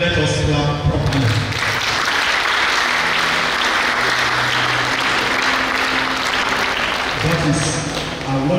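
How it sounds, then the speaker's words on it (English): Mourners at a funeral service break into sustained, dense applause, clapping loudly and continuously for several seconds with a murmur of voices and some singing underneath. "Please, if you want to clap,"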